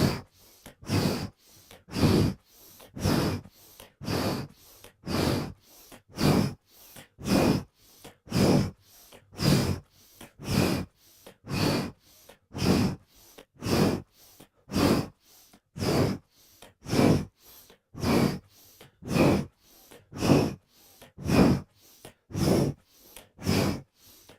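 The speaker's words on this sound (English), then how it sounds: "Inhale to the left, exhale to the right." Deep Kundalini yoga pranayama breaths, inhaling and exhaling while twisting side to side, repeat about two dozen times in an even rhythm, loud, close and alone.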